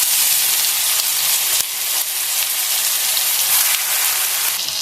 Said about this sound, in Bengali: এবার আমি এই ফোড়নের মধ্যে দিয়ে দিচ্ছি সেই বেটে রাখা মশলাটা।